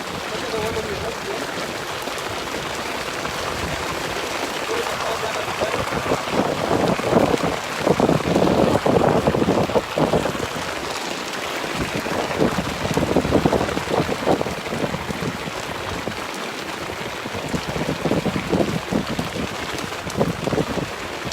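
Steady rain falling on bush vegetation during a safari in Kenya's Mahali Mzuri, with elephants nearby, a continuous close hiss with gusty wind noise swelling in the middle.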